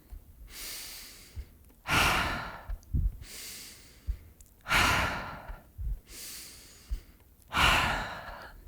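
Slow, deep breathing in a calm relaxation exercise: four long airy exhales or sighs alternate with softer inhales and faint nasal sniffs, close and unhurried, with no talking.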